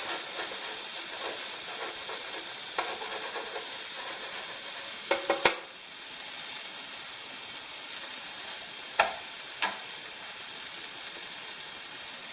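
A small bread roll and bacon bits frying on a Tefal CB501812 Malaga non-stick electric plancha, a soft steady sizzle with occasional clicks and scrapes, two sharper knocks near the middle and later.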